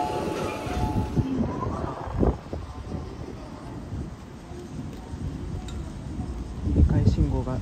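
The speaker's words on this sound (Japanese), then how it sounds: "折り返信号がつきましたので 回送電車出発します。" An out-of-service train on the Osaka Higashi Line pulls away from Kyuhoji, with low rumbling and rail clatter that swell toward the end, mixed with gusty wind buffeting the microphone.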